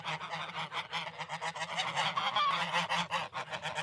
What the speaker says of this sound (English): They're the ones that make the loud quack we hear in cartoons and at the park.